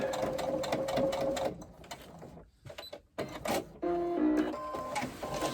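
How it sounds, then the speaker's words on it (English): Sewing machine runs a second row of stitches over folded tape, a rapid steady needle chatter that stops briefly midway, then resumes in short bursts with a faint whine, close and fairly quiet. "this second row actually sews over the folded part of the tape"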